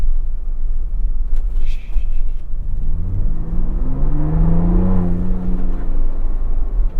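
Ford Bronco Raptor engine in exhaust mode revving up loudly from a low rumble into a rising, throaty roar that swells and then eases back, heard close to the exhaust.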